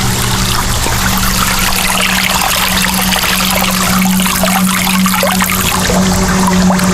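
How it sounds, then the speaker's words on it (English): Water trickles and pours steadily into the bowls of a three-tier concrete patio deck fountain, a close, constant splashing and babbling with no voices over it. "Obviously, water pouring into those 2 bowls, and then where it emits out here at the top, you'll get sound there as well"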